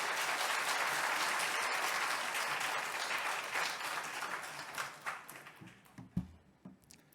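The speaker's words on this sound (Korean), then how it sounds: "우리 목사님 수고했다고 박수로 모시겠습니다." A Korean church congregation in Christchurch, New Zealand claps for their pastor, a full, even burst of applause that gradually thins and fades into scattered, separate claps and small knocks near the end.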